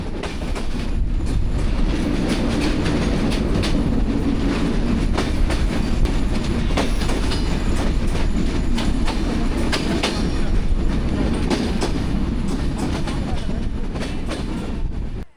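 A train runs past Arani railway station without stopping, its wheels and carriages producing a loud, steady rumble with rhythmic clatter throughout.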